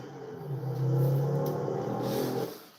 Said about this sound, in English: Those 5 cylinders sound so mean.